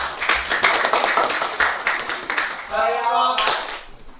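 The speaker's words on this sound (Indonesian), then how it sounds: "beri tepuk tangan untuk kelompok 4" A classroom of students claps for a presenting group in a quick burst of scattered handclaps, fading into a brief tonal sound and a voice toward the end.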